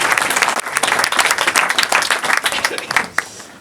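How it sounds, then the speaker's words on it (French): Wedding guests at a religious wedding ceremony applaud the bride and groom with steady, fairly close clapping that runs the whole time, with no talk over it. "On peut les applaudir bien sûr"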